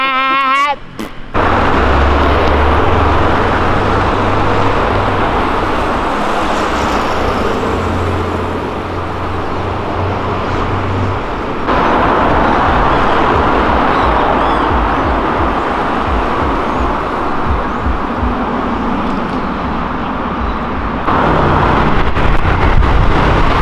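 A Dodge Ram fitted with a Viper engine of over 500 hp roars loudly while driving, its gear changes punctuated by sharp popping bangs, with people talking in the cabin.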